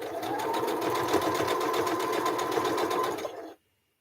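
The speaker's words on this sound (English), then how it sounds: "I am sewing a disappearing 9 patch on point." A sewing machine stitches a disappearing nine-patch quilt block set on point, a steady close mechanical whir with rapid needle ticking that runs continuously for a few seconds, then cuts off abruptly into silence.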